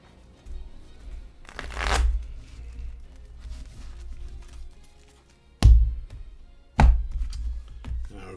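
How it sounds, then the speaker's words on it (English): A deck of cards riffle-shuffled in a quick burst, followed by two sharp taps as the deck is squared on a table, close and clear. "now I'm giving it a few regular shuffles"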